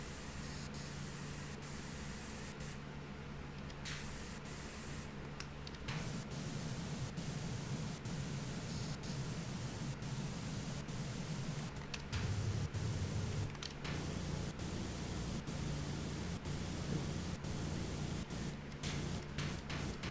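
In the video game Powerwash Simulator, a pressure washer sprays cleaner in a continuous broad hissing rush, fairly loud and steady, with short breaks and shifts in tone and no speech.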